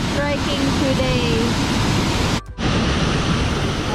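Pucuk Waterfall in Buleleng, Bali roars as a steady, loud broadband rush of falling water close by, continuous for nearly the whole stretch apart from one brief dropout, with faint speech-like traces mixed into the roar.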